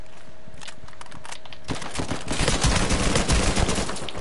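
Gunfire in the online multiplayer mode of Uncharted 4, sparse shots at first then a dense, loud burst of rapid overlapping automatic fire and explosive cracks dominating the second half.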